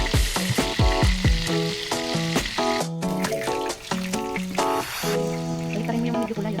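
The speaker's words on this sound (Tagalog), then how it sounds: "hintayin natin maluto ang ating fried chicken" Chicken deep-frying in hot oil gives a loud, dense, continuous sizzle and crackle close by, with bubbling spatter and no talk.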